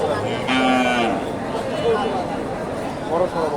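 A white Friesian cow at a cattle market gives one short, clear moo near the start, followed by a stretch of low, indistinct background noise.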